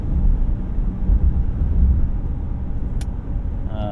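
Interior cabin drone of a 2024 Ram 2500 Rebel pickup with a 6.4L HEMI V8 cruising at highway speed, a steady low road and engine rumble with wind noise, continuous and fairly loud, no talking.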